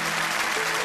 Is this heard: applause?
yes